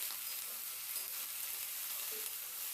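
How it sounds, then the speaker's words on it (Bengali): Chopped spring onion stalks and potatoes fry in a pan with a steady, close hiss of sizzling oil and faint stirring underneath, continuous and even throughout. "এবার পেঁয়াজ কুড়িটা দিয়ে আলুর সঙ্গে আরও বেশ কিছুটা সময় ধরে নাড়াচাড়া করে একদম ভেজে নিতে হবে"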